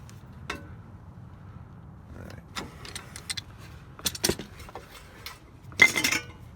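Metallic clinks and scrapes from working on an Acura ILX 2017 front brake, pushing the caliper piston back in; scattered near tool taps and clanks with quiet gaps between, one sharper rattling burst near the end.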